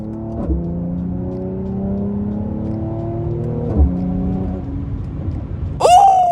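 A car accelerates after a paddle-shifter downshift, the engine's rising tone climbing twice with a quick shift break between, then a short sharp squeal near the end.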